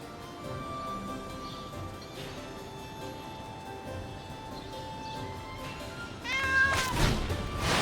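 A domestic cat gives one close, drawn-out meow near the end, rising then falling, over quiet steady background music from a Magic: The Gathering Arena card game.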